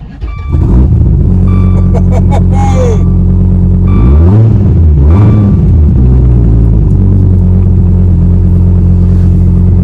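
A 5th-generation Dodge Viper's engine during a drive: a loud, deep, steady rumble that swells and dips through a couple of rev changes midway, then settles back into a heavy drone.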